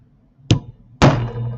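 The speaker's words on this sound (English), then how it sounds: "I'll hammer that out." Two sharp hammer strikes ring out on thin craft metal, close and loud, the second heavier with a short metallic ring fading after it, and no talking.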